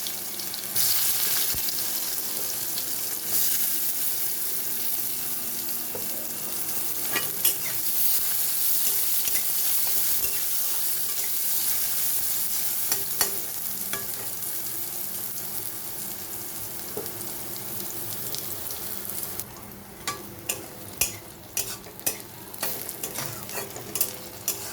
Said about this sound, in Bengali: এখন আমি বেগুনগুলো দিয়ে দিচ্ছি ভাজার জন্য।